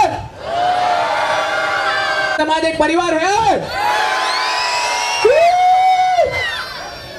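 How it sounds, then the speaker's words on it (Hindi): A large crowd at a community mela festival shouts and cheers together at full energy for several seconds, loud and sustained, with a voice calling out over the roar. "पूरी एनर्जी खोल के आपको 5 सेकंड के लिए चिल्लाना है"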